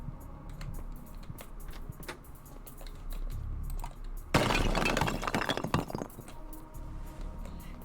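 A wine bottle smashed in a video game: a sudden crash with scattering glass fragments in the middle, surrounded by quieter clicks and background game noise.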